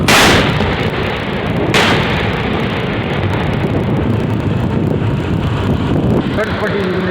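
Cross-border gunfire and shelling from small and heavy weapons during a ceasefire violation in Jammu and Kashmir: loud, dense rumbling blasts, with a sharp burst at the start and another partway through, over continuous roaring noise.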